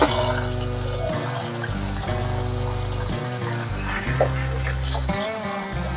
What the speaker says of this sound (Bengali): আলুটা ভাজা হয়ে এসছে, এর মধ্যে আমরা ছিমটাও দিয়ে দেবো।